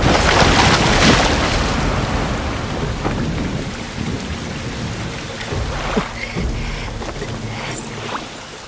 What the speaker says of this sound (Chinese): 这雨可是越下越大